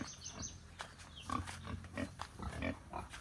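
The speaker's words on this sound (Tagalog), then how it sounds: "ito may papakita ko sa inyo yung mga alagang baboy natin dito na nakakulong" Penned farm pigs grunt and squeal in bursts close by, several animals overlapping in an irregular, busy stream of snorts with no talk over them.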